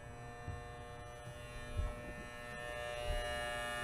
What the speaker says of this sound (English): That is the sound of a working pump.